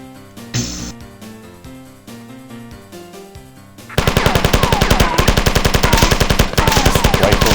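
Loud rapid bursts of rifle gunfire from the video game Marathon, with a dense, steady automatic rattle starting halfway through after quieter game sounds and music.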